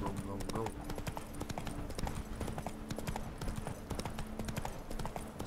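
Roach's hooves gallop in The Witcher 3: Blood and Wine as a rapid, rhythmic run of clip-clop beats, close and continuous. A voice talks over the hoofbeats.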